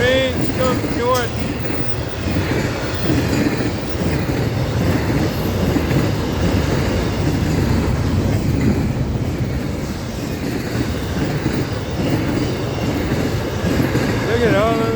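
A combined FEC freight train with locomotives rolls northbound past a St. Augustine, Florida crossing, a continuous loud rumble and clatter of wheels with occasional squeals, close by, with voices talking over it.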